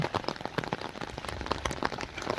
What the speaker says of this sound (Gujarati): છાંટા થોડો થોડા વધ્યા છે